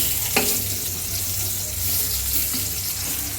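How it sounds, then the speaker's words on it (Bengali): Sweet pumpkin frying in hot oil, a close steady sizzle and hiss with a single sharp clink near the start and a few soft knocks, no talking. "এটা আমি তেলে ভাজা ভাজা করব"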